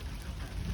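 Steady rain falls outdoors at a muddy temporary dirt road construction site where gravel is being spread, a continuous close hiss of drops on surfaces with low rumble underneath, no talk.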